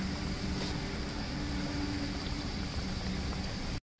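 Soft, even sizzling and bubbling of sweet khaja pastry dough frying in oil over low heat, a low steady hiss that continues unbroken before cutting off abruptly.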